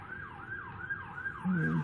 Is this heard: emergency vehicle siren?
yes